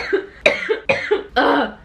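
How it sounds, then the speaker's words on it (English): Several sharp coughs in quick succession, close and fairly loud, ending in a longer rasping one. "Cough."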